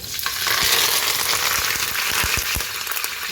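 Curry leaves sizzle in hot oil with a loud crackling hiss, punctuated by a few sharp pops and stirring scrapes.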